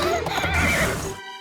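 A cartoon horse pulling a fast-galloping carriage gives a loud, close whinny that rises and wavers for about a second before cutting off abruptly.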